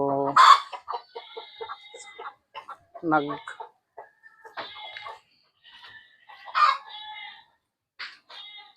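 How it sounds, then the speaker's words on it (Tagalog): A hen that has just laid eggs clucks on a small mini farm, giving short, close, uneven calls and squawks separated by quiet gaps. "may nangitlog tayo na manok"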